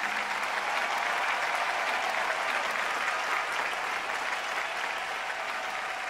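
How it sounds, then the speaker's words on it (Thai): Steady, dense applause from a crowd at an award ceremony, many hands clapping together at an even level throughout. "เดี๋ยวเชิญป้าป้าหมาม้าลุกขึ้นยืนแล้วเสียงปรบมือจากพวกเรานะคะ"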